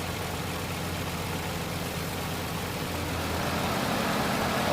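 A Nissan Maxima engine idles steadily outdoors during an A/C freon recharge, a continuous even rumble with no talk, growing slightly louder toward the end.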